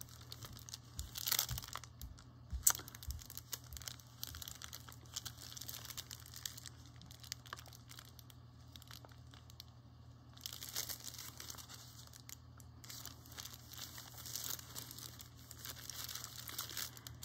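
Parchment paper is torn and crumpled close by for a craft project, with soft, steady crinkling and rustling in several stretches and one sharp rip, quiet against a low background hum.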